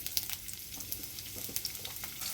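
Onions frying in oil in a pan for masala puri: a soft, steady sizzle and crackle with a few small pops, close but fairly quiet.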